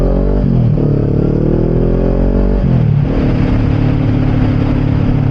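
Motorcycle engine riding on surface streets in Los Angeles, loud and close throughout, with the engine note rising under acceleration, dropping and revving up again after a brief gear change.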